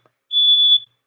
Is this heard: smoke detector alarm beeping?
yes